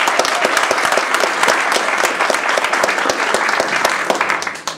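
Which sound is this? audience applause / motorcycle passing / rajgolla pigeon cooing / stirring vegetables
audience applause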